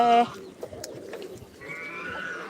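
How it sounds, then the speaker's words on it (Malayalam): King pigeons and fancy pigeons coo in a short, soft burst of low throaty calls, fairly close, over faint background noise. "king പ്രാവുകളുണ്ട് fancy പ്രാവുകളുണ്ട്"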